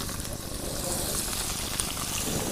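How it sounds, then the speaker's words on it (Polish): Duck breasts frying skin side down in clarified butter in a pan, a steady soft sizzle and crackle with faint spattering, quiet and continuous throughout. "smażymy krótko piersi z kaczki"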